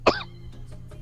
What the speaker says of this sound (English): I laughed and I coughed at the same time